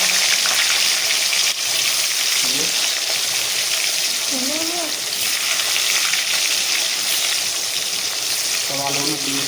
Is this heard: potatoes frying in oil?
yes